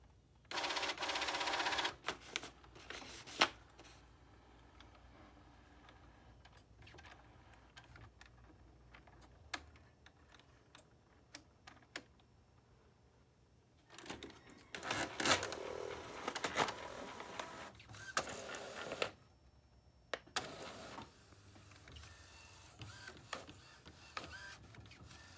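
A printer prints on paper nearby in several bursts of mechanical whirring and clicking, separated by quieter pauses, with no talking.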